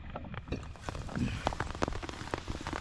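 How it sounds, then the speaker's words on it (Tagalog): Rain pattering steadily on a tent nearby, with scattered louder drops and faint voices underneath. "Nabutan na kami ng ulan."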